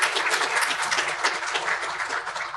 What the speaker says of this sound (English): please, a round of applause for that partnership and for the LAPD